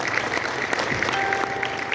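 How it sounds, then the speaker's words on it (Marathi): Audience applause at an event honouring a former Indian Army soldier joining the police, sounding as a steady round of many hands clapping, fairly close and sustained throughout. "त्या बापासाठी सुद्धा आपण सर्वांनी एकदा टाळ्या वाजवल्या पाहिजे"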